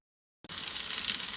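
Thin chicken pieces for a creamy lemon chicken pasta hit a hot pan after a brief silence and break into a steady, close, bright sizzle that holds evenly to the end.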